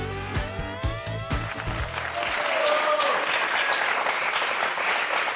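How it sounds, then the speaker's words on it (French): Television game show studio audience breaks into applause after a jingle ends, the clapping rising and continuing as a dense, steady burst. "Voilà, des applaudissements pour vous."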